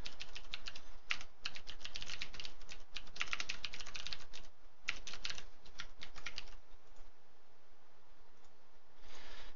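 Rapid typing on a computer keyboard: dense bursts of close, crisp key clicks with brief pauses between runs, easing into sparser taps near the end.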